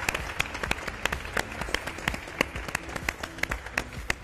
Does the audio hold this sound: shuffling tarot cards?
no